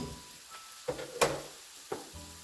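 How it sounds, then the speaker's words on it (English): Chicken and vegetable stir fry being stirred in a hot pan, a quiet steady sizzle broken by a few short scrapes and knocks of the utensil against the pan. "Give everything a nice mix to incorporate all these delicious flavors"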